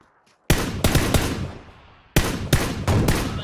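Loud PUBG gunfire rings out in two bursts of about three sharp shots each, separated by a short lull as the echo decays.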